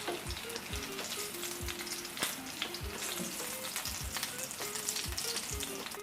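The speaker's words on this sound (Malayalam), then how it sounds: "മൂന്ന് മീൻ മറിച്ചിട്ട് കൊടുത്തിട്ടുണ്ട്. മീൻ ഫ്രൈ ആയിട്ടുണ്ട്." Pomfret fish frying in oil in a pan, a continuous crackling sizzle with scattered pops and occasional low bumps of the pan.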